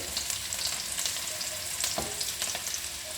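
Onions and curry leaves frying in hot oil for an egg pepper fry, giving a steady dense sizzle with small crackling pops all through, close and fairly loud with no talking.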